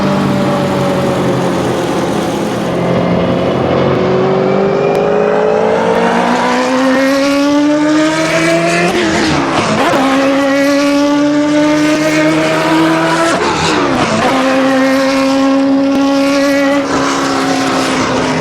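A video game car engine roars loudly and continuously, its pitch climbing steadily as it revs up, dropping briefly at gear shifts before winding up again.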